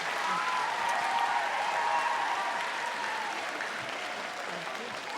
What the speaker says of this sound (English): Give a round of applause for Carla.